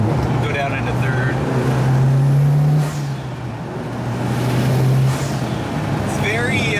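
A Mitsubishi Evo 9 with a Turbosmart blow-off valve accelerates through the gears, its engine drone rising and falling loudly while the turbo builds boost, with a voice talking over the run.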